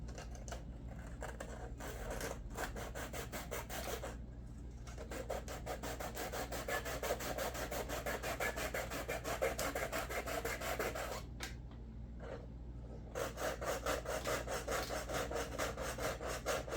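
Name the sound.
sanding by hand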